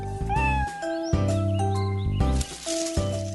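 A house cat meows several times as it is petted, clear, close tonal cries in a quick series with short gaps and no talking.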